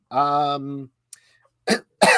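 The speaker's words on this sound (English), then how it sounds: "Try not to cough directly into the mic." A single close, sharp cough right into the microphone, set among brief bursts of speech and short pauses.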